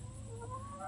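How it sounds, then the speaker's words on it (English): Hens in a chicken coop cluck softly over a low hum, with a few brief rising calls close by. "I got the other birds down here squawking at me."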